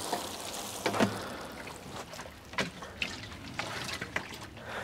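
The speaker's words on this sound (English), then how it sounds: "Wet the cardboard." Water splashes and drips onto cardboard outdoors at an allotment, making soft, faint wet spatters in scattered bursts over a low background hiss.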